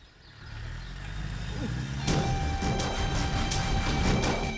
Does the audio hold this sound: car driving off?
yes